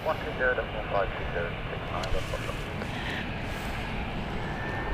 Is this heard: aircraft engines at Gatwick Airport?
yes